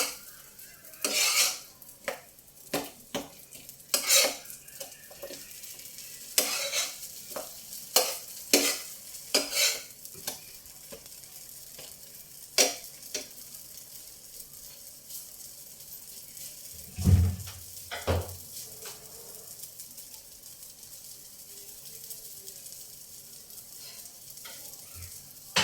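Protein-rich cakes fry in a pan under a low, steady sizzle while a utensil stirs and scrapes against the metal in scattered sharp clinks and knocks, close by, with no talking.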